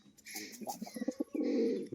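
A male crested pigeon coos nearby, a run of short throaty pulses building into a sustained rolling coo, fairly quiet with faint background chirps.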